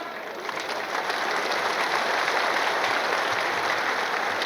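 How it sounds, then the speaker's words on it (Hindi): Steady applause from a sizable crowd, rising slightly after the first second and holding at an even, dense clatter of clapping throughout. "इतने धीरे से ताली।"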